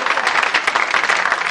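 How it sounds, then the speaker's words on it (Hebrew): An audience claps loudly and densely at close range, a brief burst of applause welcoming a musician to the stage. "תנו לו כפיים"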